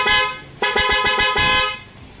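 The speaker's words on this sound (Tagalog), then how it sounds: "Busina." A Night Ranger seven-mode vehicle horn wired through a single relay sounds loud and close: a steady honk, then a run of rapid pulsing toots that stops abruptly.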